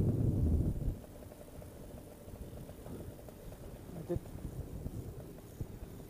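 An Air Conception Delta 200 Nitro paramotor engine idles in flight, a low steady drone under heavy wind rush after a louder burst at the start.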